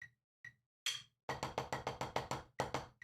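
Crisp snare drum strokes, a few sparse hits followed by a quick even run of about a dozen sharp taps, close and dry.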